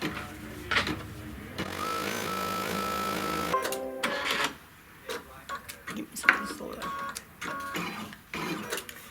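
An embroidery machine rapidly stitches a placement line before white leather is laid on, a close, steady mechanical ticking and whirring with short pauses and shifts in rhythm.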